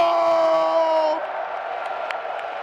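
Crowd at the Evo 2023 Guilty Gear Strive top six finals cheering and whooping loudly, with a sustained roar that eases after about a second into lower, steady crowd noise.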